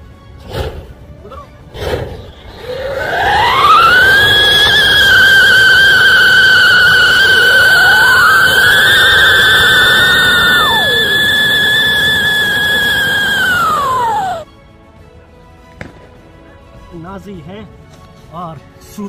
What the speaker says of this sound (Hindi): सायरन को चला के देखेंगे,